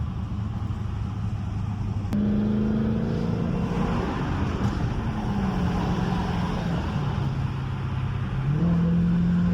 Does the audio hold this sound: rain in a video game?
no